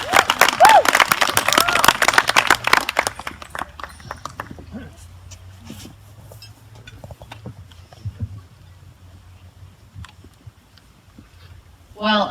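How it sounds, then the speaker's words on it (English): A crowd at a wedding reception applauds the bride's mother and father, a loud burst of clapping that fades out within a few seconds, with voices over it and quiet room sound afterward. "give them a nice big round of applause at this time"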